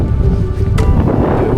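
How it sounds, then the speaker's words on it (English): Wind buffets an outdoor carp-fishing swim in February, a strong low rumble of gusts against the microphone that stays steady and loud for the whole moment, with no talk. "a bit of wind."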